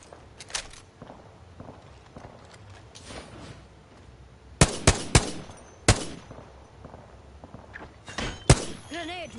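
Gunfire in the video game Apex Legends, with scattered loud, sharp shots in short clusters, some close together in pairs and triples, between quieter stretches of footsteps and game ambience.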